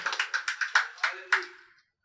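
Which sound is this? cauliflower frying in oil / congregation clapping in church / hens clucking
congregation clapping in church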